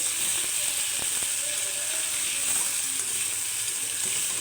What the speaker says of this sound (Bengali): এবার এর সাথে এই টমেটোগুলো ভাজা ভাজা হয়ে যাবে।